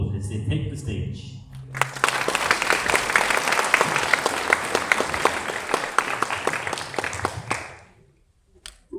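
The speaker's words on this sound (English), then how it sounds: "Let's give our SEC children and teen young adults from the SEC program a warm round of applause as they take the stage." Warm applause from an audience at a birthday celebration program as children and young adults take the stage, starting after a brief moment of talk and holding steady and dense for several seconds before fading out.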